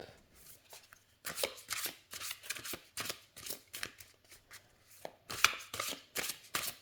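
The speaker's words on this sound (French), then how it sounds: "Je pense que le plus simple, c'est de les brasser comme ça" A large deck of oracle cards riffled and shuffled by hand, producing repeated bursts of crisp, close papery flutters and slaps in an irregular rhythm with short pauses between.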